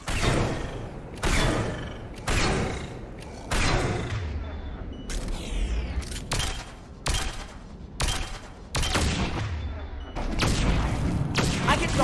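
Gunfire in the video game Mass Effect 3 sounds as repeated heavy booming shots with a roughly regular rhythm. The shots are loud and punchy, and they come with ongoing game effects.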